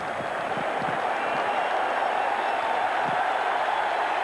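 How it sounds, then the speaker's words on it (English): A stadium crowd at an American football game roars steadily for the Giants as the period ends, a broad distant wash of cheering and applause. "The crowd saluting the Giants as the period ends"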